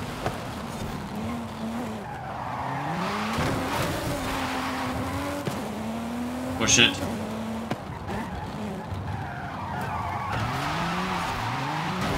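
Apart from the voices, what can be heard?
race car tires skidding in Forza Horizon 5 video game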